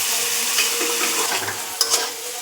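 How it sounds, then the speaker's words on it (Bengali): Spices sizzle in butter in a pan for paneer butter masala, a close, steady frying hiss with a few stirring scrapes and taps near the end. "সব মশলাটাই একটু ভালো করে বাটারে ভেজে নিলে আর স্বাদটা একটু আলাদা রকমই হবে"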